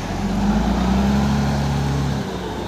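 A road grader reverses into a congested road construction site, its heavy diesel engine droning steadily at close range with a low rumbling tone that fades slightly near the end.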